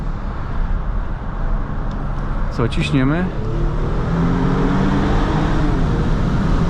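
A 2019 Mercedes S450 Coupé 4matic with a 367 hp engine at around 160 km/h, giving a steady loud drone and road roar from inside the cabin, with someone speaking briefly over it.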